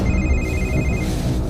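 An indoor telephone rings with an incoming call, a loud electronic trill in repeated bursts over a dense low rumble, close and steady.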